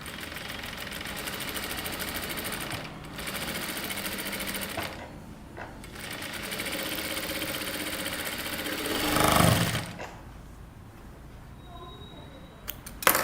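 Sewing machine stitching a princess cut kurta runs in steady continuous bursts, with short pauses and a louder rattling stretch near the end, close and alone without talk.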